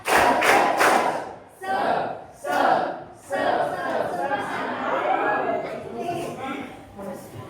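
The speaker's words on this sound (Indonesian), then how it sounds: "3 kali tepuk semangat" A classroom of students performs a rhythmic spirit clap, with bursts of loud group clapping and cheering in a few sharp waves, followed by a continuous crowd chatter of many voices.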